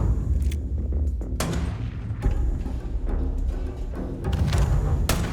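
Gunfire rings out in the sci-fi video game Starfield: a string of sharp, loud shots and booming blasts at irregular intervals, some in quick clusters, over a rumbling background.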